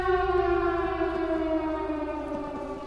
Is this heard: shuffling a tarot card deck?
no